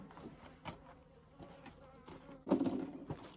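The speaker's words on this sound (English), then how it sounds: "it ended up being just like a queenless swarm. So I'm gonna put them away here as well." A queenless honey bee swarm, Africanized bees in an irrigation box, produces a soft continuous insect buzz close by, with a louder surge of droning near the end.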